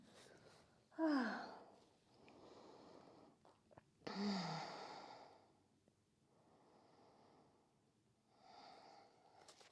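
Close, soft breathing during a gentle strengthening yoga session, with several breathy exhalations and sniffs at intervals and a couple of sharper puffs of air standing out.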